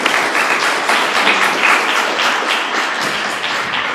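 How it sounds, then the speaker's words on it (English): Applause from guests at a 2008 recognition reception, honoring a supporter: steady, dense clapping from a crowd lasting the whole stretch at an even level, with no voices over it. "I'd like to give a round of applause for her and her support"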